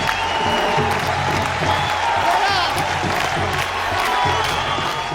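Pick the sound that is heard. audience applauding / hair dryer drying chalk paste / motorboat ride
audience applauding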